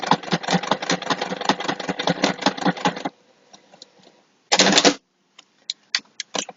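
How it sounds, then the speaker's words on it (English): A sewing machine stitches across the final edge of a fabric clutch wallet: a rapid run of mechanical clatter for about three seconds, a pause with small clicks, then one brief second burst. "I'm going to sew across the last edge"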